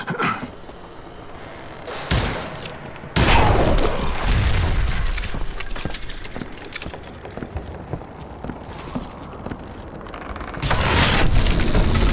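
Dynamite goes off in the western video game Call of Juarez Gunslinger, with several heavy booms and a rolling rumble, rattling debris and a final loud blast.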